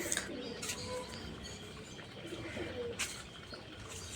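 Pigeons cooing outdoors after being released, low soft coos repeating over steady background noise with a few faint chirps, fairly quiet and distant.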